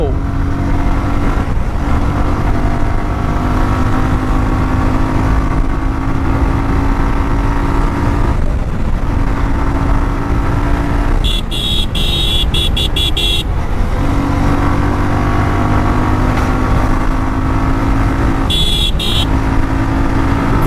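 Suzuki Gixxer SF motorcycle engine drones steadily on the road, loud and close, with brief horn toots from traffic and a voice talking over it.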